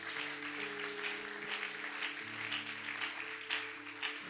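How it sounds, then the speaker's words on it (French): A church congregation claps and cheers during a French-language sermon, a steady wash of applause with a sustained organ or keyboard chord underneath. "Acclame encore pour toi-même"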